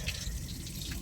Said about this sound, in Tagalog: tap water tulad na ito. O galing sa gripo.